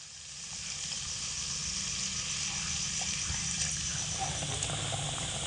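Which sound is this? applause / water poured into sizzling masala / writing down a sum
water poured into sizzling masala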